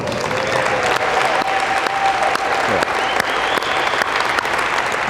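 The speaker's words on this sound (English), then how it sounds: "Let's give them another round of applause." Loud, continuous applause from the crowd at the Lansing Eastern High School Athletic Hall of Fame induction ceremony for the 2023 inductees, a thick wash of clapping filling the whole stretch without a break.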